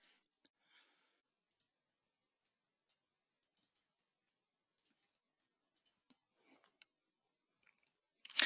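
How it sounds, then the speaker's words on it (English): Sparse, faint computer mouse clicks tick out at irregular intervals in a near-silent room, growing a little busier toward the end before a louder burst of noise cuts in. "So let's go ahead and I'm going to click on PDF."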